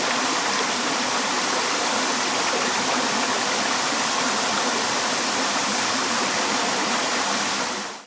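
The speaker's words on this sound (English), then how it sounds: "That's a little overflow down there." Water spilling over from a small river pool near Kununurra, Western Australia, a loud, even rush of splashing flow that stays steady throughout with no voices.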